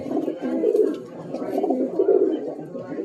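A male Punjab pigeon coos in low, throaty bursts while being held and handled, the soft rolling calls continuing steadily through the moment at close range.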